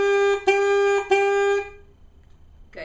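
Saxophone in a beginner lesson plays three tongued notes on one steady pitch, each with a crisp attack, the last held and fading into near silence before a faint breath or voice at the end.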